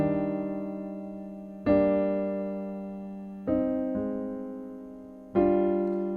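Piano chords of three notes each ring out alone, struck clearly about four times in a slow, even pace, each one sustaining and fading before the next.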